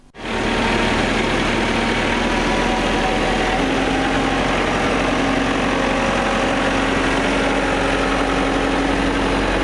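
Heavy excavators and earthmoving machines work nonstop building embankments against an advancing wildfire front, their engines droning loud and steady with sustained low rumble and whining tonal hums that shift in pitch.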